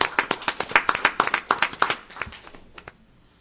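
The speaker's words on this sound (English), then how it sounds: "I deserve another round of applause." A short burst of applause from a small group at a Millville city council meeting, clapping briskly for about two seconds before tapering off to a few scattered claps.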